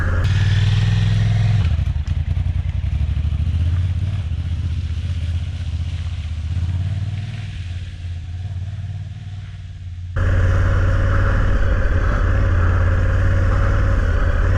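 A Honda Africa Twin motorcycle rides off-road along a slippery logging road and through a mud hole, its engine rumbling loud and close. The engine note dips and eases through the middle, then surges back with a strong throttle.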